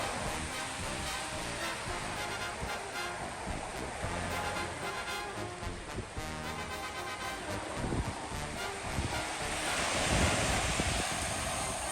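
Continuous broad wash of sea surf on a beach in Montevideo, Uruguay, at a strong ebb tide, with wind buffeting the microphone, swelling louder near the end.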